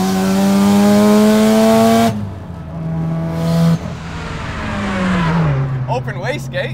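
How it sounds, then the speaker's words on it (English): Turbocharged Mazda RX-7 race car, a 400 hp single-turbo track build running an open wastegate: a loud, steady engine drone that drops off, then a sustained tone sliding downward, with chirping flutter near the end. "Open wastegate."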